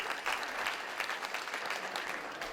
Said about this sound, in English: Please give us a round of applause for that leadership